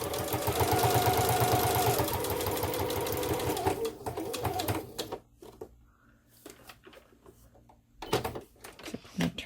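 A sewing machine stitching a fabric belly band, running in a steady, fast mechanical whir for several seconds, then slowing into stop-start bursts of stitching with short pauses between them.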